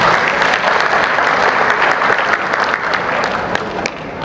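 A large audience claps at a Disability Day stage event, giving loud, dense applause that holds steady for several seconds before thinning slightly at the end.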